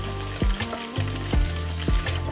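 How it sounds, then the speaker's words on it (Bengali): Paneer cubes fry in two spoons of oil, a close, steady sizzle broken by a few soft thumps and scrapes as the pieces are turned in the pan. "যার জন্য 2 চামচ তেল দিয়ে পনিরগুলো একটু ভেজে নেবেন।"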